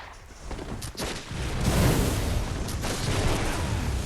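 Blunderbuss gunfire in the video game Bloodborne, a dense, continuous roar of booming shots and rumbling blasts that swells and holds loud throughout, with no clear speech.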